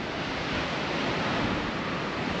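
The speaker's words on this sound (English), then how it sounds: "a deep chasm carved out by the crashing waves of the Pacific Ocean" Pacific Ocean waves churn and crash through Devil's Churn, a deep rocky chasm on the Oregon coast, a loud, steady roar of surf that fills the air without pause.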